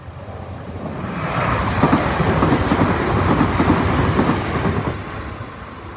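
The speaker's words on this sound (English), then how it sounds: "it's a Transpennine service. Not stopping here, of course." Transpennine train passing through a station without stopping, a loud swelling rumble with rhythmic clickety-clack of wheels over rail joints, rising then fading over a few seconds.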